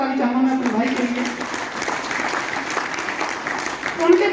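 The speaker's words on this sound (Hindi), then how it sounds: "एक बार जोरदार ताली चाहूंगा मैं अपने भाई के लिए" An audience at an RCM business seminar in Meerut breaks into a sustained round of clapping that fills the hall, with a voice over it at the start.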